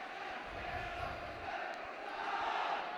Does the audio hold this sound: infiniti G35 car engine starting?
no